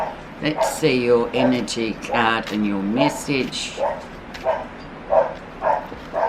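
Several dogs bark and yip in quick bursts behind a person talking close to the microphone indoors.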